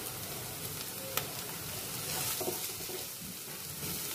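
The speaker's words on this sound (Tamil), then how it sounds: "கருவேப்பிலை கொஞ்சம் பிச்சு போட்டுக்கலாம்." Torn curry leaves dropped into hot oil for an Indian egg curry, sizzling softly and steadily close by, with a brief spatter burst partway through.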